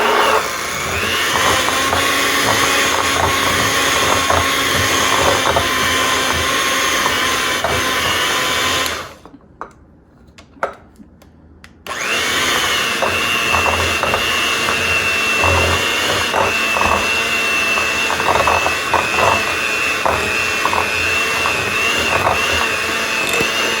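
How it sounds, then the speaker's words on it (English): A hand mixer whirs loudly and close while blending cream cheese with powdered sugar in a bowl. The motor runs steadily, cuts out for a few seconds, then starts again and keeps going. "I'm gonna blend those together real quick with just a hand mixer."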